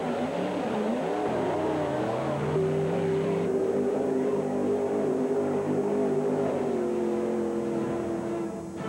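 The Bigfoot monster truck's engine roars as it drives over a row of junked cars, a loud continuous rumble that rises and settles into a sustained high drone.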